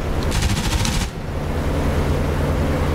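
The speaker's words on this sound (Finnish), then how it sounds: "Patrol boatti ampuu." Rapid automatic gunfire from a patrol boat in the DCS World combat flight game, a fast burst of repeated shots that cuts off after about a second, leaving steady engine rumble beneath.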